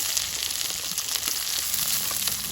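Panch phoron spices with chopped garlic, ginger and onion fry in hot oil, a steady dense sizzle crackling close up and evenly throughout, no voices.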